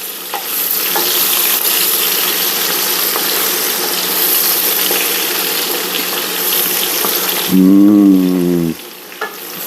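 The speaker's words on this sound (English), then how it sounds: "we're gonna add our chopped garlic or minced garlic. Give that a little stir in there." Chopped garlic frying in a pan over medium heat, a loud continuous sizzle with light stirring, followed near the end by a brief low rising tone and a couple of small clicks.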